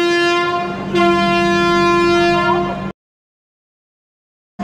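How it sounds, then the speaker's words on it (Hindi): A Garib Rath Express departing Ratnagiri station on the Konkan Railway sounds a loud, sustained horn blast with a brief pitch shift midway, then cuts off to silence before a second blast begins at the end. "प्लेटफॉर्म नंबर तीन से भाई डिपार्चर हो चुकी है चालीस मिनट डिले के साथ"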